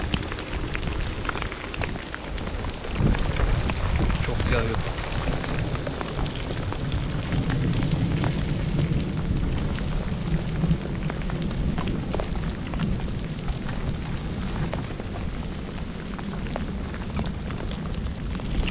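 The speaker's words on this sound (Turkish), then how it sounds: "Deli gibi dolu yağıyor." Heavy hail pelts down during a Black Sea bicycle tour, a dense, continuous rattling patter close by that runs for the whole stretch with no voices.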